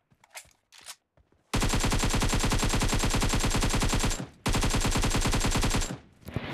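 Rapid automatic gunfire from the BGMI video game, aimed at boards: two long sustained bursts of dense, loud shots separated by a short pause, with a few faint clicks before the first burst.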